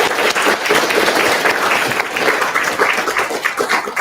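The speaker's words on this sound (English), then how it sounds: "Please give another round of applause for our first president." Loud, dense audience applause at a book launch for a first president, continuous clapping from a sizable crowd sustained throughout.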